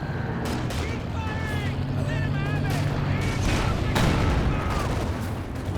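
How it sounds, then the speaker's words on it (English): Heavy double Calliope rocket artillery barrage in Company of Heroes 2, a dense, continuous roar of explosions and booms with whistling streaks, loud and sustained throughout with background voices. "2 squads down there to the double Calliope barrage"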